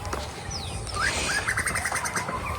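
A bird chirps in a farm field among cotton plants, giving a quick sweeping call and then a fast rapid trill, close and loud over a low outdoor rumble, with no voices.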